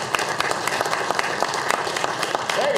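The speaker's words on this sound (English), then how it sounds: "let's give them a round of applause for the wonderful work they have done" A room full of people clapping for outgoing board members at a community meeting, dense steady applause with scattered sharper claps, moderately loud and unbroken.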